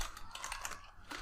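Continuous rapid keystrokes on a computer keyboard, a close, steady clatter of light clicks with no pauses, heard alone.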